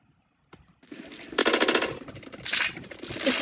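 Suppressed R2 rifle fire in the video game Phantom Forces, a rapid burst of muffled shots near and loud, with a few clicks before and rattling bursts continuing to the end.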